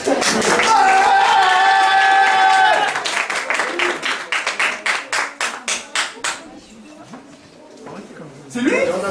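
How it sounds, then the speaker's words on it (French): A crowd at a cosplay parade at the Made In Japan 2012 convention cheers and applauds loudly, then the clapping thins into a few rhythmic claps that fade before voices return at the end. "On l'applaudit bien fort."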